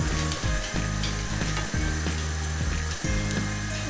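Guanciale fries in olive oil in a pan for carbonara, giving a loud, continuous close-up sizzle broken by a few soft clicks from stirring. Nobody talks.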